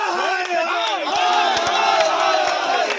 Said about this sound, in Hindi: उनके कार्यकर्ताओं ने भी जमकर नारेबाजी की